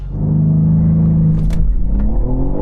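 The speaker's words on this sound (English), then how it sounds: "here's what happened when I launched a 550 horsepower BMW M3 CS from 0 to 60 miles an hour" A 550 horsepower BMW M3 CS launches from 0 to 60 mph, its engine roaring loud and close with a deep rising rumble and a brief gearshift break partway through.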